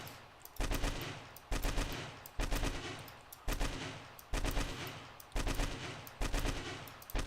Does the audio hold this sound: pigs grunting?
no